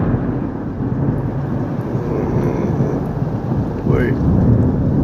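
A thunderstorm with heavy, steady rain and rolling thunder, loud and continuous, with a brief rising whistle-like sweep near the end.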